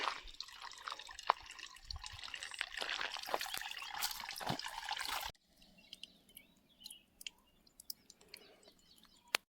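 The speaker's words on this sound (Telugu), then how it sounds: "ఇక్కడి నుంచి వస్తుంది వాటర్. మన దగ్గర ఉన్న వాటర్ బాటిల్ అయితే ఖాళీ అయిపోయింది కదా, ఇప్పుడే ఆ బాటిల్లో పట్టుకుందాం నీళ్ళు." Spring water pours from a small tunnel on the trail to Mahendragiri in Odisha, splashing steadily into a plastic bottle before settling into sparse, close drips and trickles.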